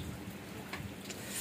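Light, fine rain falls steadily outdoors in the Malvan countryside, a soft, even patter heard close and unbroken, with no voices.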